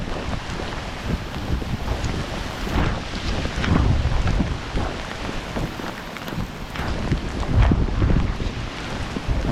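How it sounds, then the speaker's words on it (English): Strong gusting wind roars continuously across the microphone during a monsoon rainstorm on an outdoor walk, loud and buffeting with surging peaks and no talking. "Here comes the wind."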